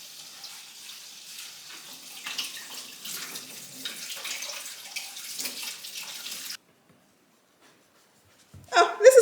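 A kitchen knife is rinsed under a running tap while making butternut squash in bone broth: a steady, fairly soft splash of water for several seconds that cuts off into silence, followed by a brief louder clatter at the end.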